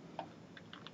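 A handful of soft, quick clicks from a computer keyboard as a short word is typed, quiet and close, with no voices.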